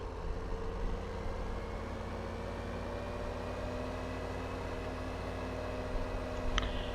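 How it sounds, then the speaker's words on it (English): A tractor engine in Farming Simulator 2015 hums with a low steady drone as it drives, constant and moderately quiet throughout with a brief click near the end and no talk. "We'll grab this tractor here."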